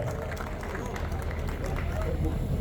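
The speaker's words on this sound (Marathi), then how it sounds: "त्यांचं आपण टाळ्या वाजून खूप जोरामध्ये स्वागत करायचं आहे" A dense crowd at a political road show applauds in a continuous, loud wash of clapping and noise, with voices murmuring underneath throughout.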